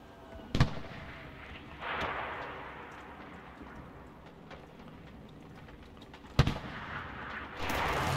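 Distant battlefield gunfire in the World War II shooter Enlisted, with two sharp loud shots standing out against a low rumbling backdrop of scattered far-off fire.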